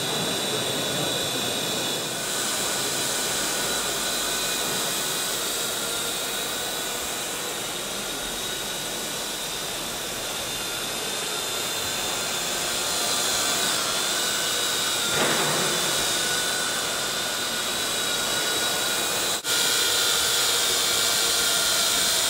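The four propellers of a Parrot AR Drone quadcopter spin in a loud, steady whirring whine with little change, heard at a trade fair indoors.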